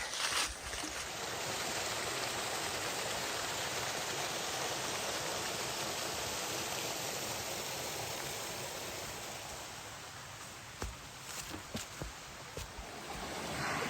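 A mountain stream cascades over rocks at a trail water crossing on the Appalachian Trail, a steady close rushing roar of water that fades slightly near the end, with a few faint knocks and no talking.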